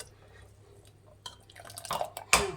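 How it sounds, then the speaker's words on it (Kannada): Water being poured into a pot of chickpeas and peas for a curry, a quiet splash and trickle building near the end, with faint clinks and no talk. "ನೋಡಿ, ಇನ್ನೊಂದು ಸ್ವಲ್ಪ ನೀರು ಹಾಕ್ತಾಯಿದ್ದೀನಿ."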